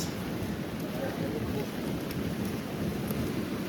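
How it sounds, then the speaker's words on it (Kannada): Heavy monsoon rain pours steadily at a beach, a dense, loud hiss with a low rumble underneath and gusts of wind, unbroken through the short stretch with no one speaking. "ಜೋರು ಮಳೆ."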